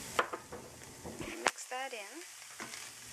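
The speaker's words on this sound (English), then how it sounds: "the onions and the peppers have had 5 minutes to saute" Onions and peppers sauté in a pan, a soft sizzle with a few scraping stirs running beneath a person talking close by.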